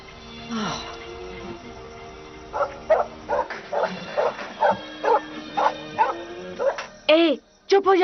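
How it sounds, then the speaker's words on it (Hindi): Dog in a horror film scene barking repeatedly in a regular series of sharp, medium-loud barks, ending with a couple of louder yelps, with people talking before and around the barking. "ये डॉग ही क्यों भौंक रहा है?"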